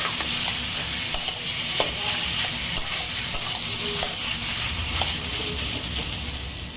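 Taro leaves cooking with prawns in a pan, giving a steady close sizzle and frying hiss with repeated scraping stirs and small clinks of the utensil throughout.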